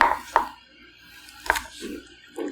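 Knife strikes on a cutting board while spring onion is sliced thinly for homemade Korean kimchi, giving a few sharp, close chops at an uneven pace, with softer rustling of the greens between them.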